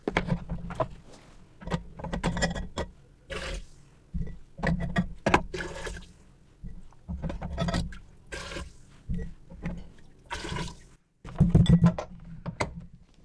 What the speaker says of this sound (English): let's go ahead and take the jars out of the canner where I've had them heating